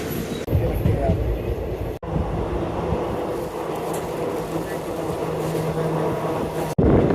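A passenger train in Karnataka bound for Tiptur runs along with a loud, steady rumble of wheels and carriages, sharp cuts breaking the continuous roar.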